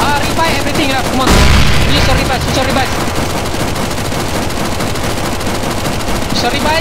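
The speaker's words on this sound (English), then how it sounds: "Shoot him, shoot him, shoot him with everything you have" Continuous rapid gunfire from many players shooting the boss on a CS:GO zombie escape map, loud and dense with a heavier burst early, while a voice shouts over it.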